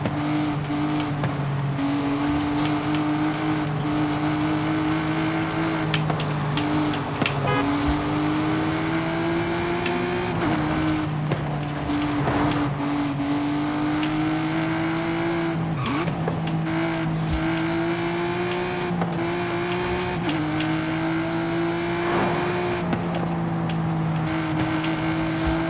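Car driving in Forza Horizon 5 on slippery wet roads, a steady engine drone rising and falling through gear changes with occasional tire squeal and skids, loud and continuous with no talking.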